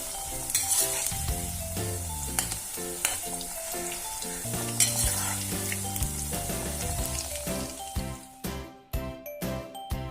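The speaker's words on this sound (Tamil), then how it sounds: "இப்போ எண்ணெயை சூட் பண்ணி எல்லா சிக்கனையும் டீப் ஃப்ரை பண்ணுங்க." Chicken deep frying in hot oil for a pepper chicken egg wrap, a steady bright sizzle running through the whole stretch beneath loud background music.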